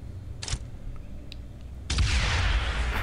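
A gunshot from a special weapon in the dragon-hunting game Dragon Hunter, heard as a brief sharp crack followed about a second later by a loud, sustained explosion blast that fills the rest of the moment.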